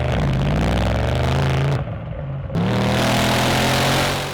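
A 2024 Bentley Flying Spur S pulls away, its engine a steady close drone that rises under load with a brief dip in the middle before resuming.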